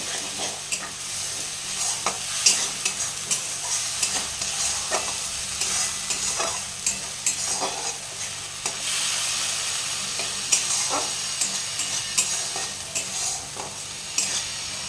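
Spice paste with a little water fries in a wok while a utensil repeatedly scrapes and stirs it, a steady sizzle broken by frequent clinks and scrapes, close and clear with no talking.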